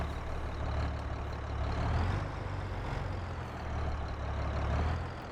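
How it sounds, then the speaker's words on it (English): A tractor engine in the video game Farming Simulator 22 runs with a steady, heavy low rumble, constant and close with slight swells in loudness, no voices over it. "Still love the engine noise on this tractor."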